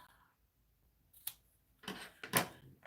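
Sharp scissors snip through ribbon tails on a finished bow: a few crisp, close cuts in quick succession after a quiet pause, with no talking.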